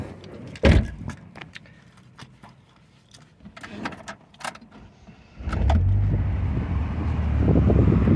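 Door of a 2008 Saturn Sky Redline turbo roadster thuds shut with a sharp close knock, followed by faint clicks and key jingles inside the car, then a steady low rumble of the engine or blower starts and continues.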